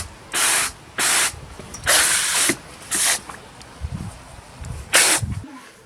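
Water spray hissing in short bursts onto the plastic case of a Bosch PBH 2100 RE hammer drill during cleaning, about six separate loud blasts with brief gaps and faint clatter between them.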